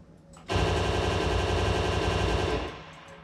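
Gunfire from a video game: a sustained automatic burst of about two seconds, loud and dense, starting abruptly and tapering off at the end, with no talking over it.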